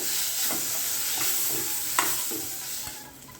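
A steady sizzle of tomatoes sautéing in a pan for a meal maker gravy, with a spoon stirring and scraping at intervals, close and continuous.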